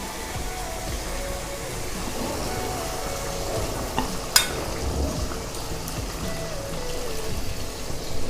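Water poured into frying achari chicken in a pan raises a steady sizzle and bubbling hiss, with a brief sharp clink midway, close and continuous throughout.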